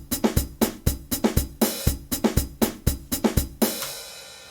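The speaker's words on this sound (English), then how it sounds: "we're gonna jump to the sequencer view and create our drum beat" A programmed drum beat looped in Cakewalk, with punchy kicks and snares under a steady eighth-note hi-hat pattern, played loud and alone for about four seconds before a ringing cymbal-like tail.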